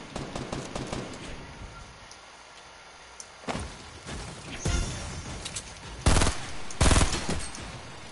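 Rapid automatic gunfire from a shooter game played on PS4 with keyboard and mouse, bursts near and far, with louder close volleys toward the end.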